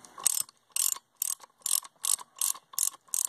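A hand ratchet turns a nut that holds an engine fan in place during an engine and transmission teardown, giving eight evenly spaced bursts of sharp metallic clicking, close and clear, with no talk.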